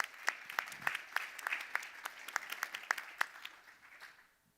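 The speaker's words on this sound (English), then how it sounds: "Big round of applause for them" A modest audience at a prize finalist announcement claps in scattered, distinct hand claps that stand out individually rather than blending, then thins and fades out toward the end.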